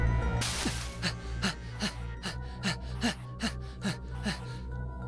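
A young man in a video game, being chased, breathes raggedly in quick, rhythmic gasps, about a dozen sharp, close breaths over a low steady hum.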